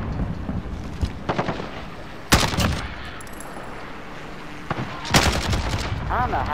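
Gunfire in the video game Call of Duty Modern Warfare: sharp bursts of rapid shots in a few separate volleys, loud and close, over steady background noise.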